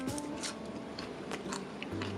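Bites into crispy freeze-dried cucumber slices give a few short, crackly crunches over a steady background hiss, close and fairly quiet.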